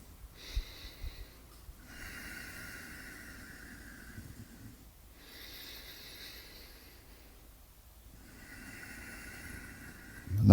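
Slow, deep breaths during a held yoga chair pose: long hissing inhales and exhales alternate in a steady rhythm, close and fairly soft, with pauses between them.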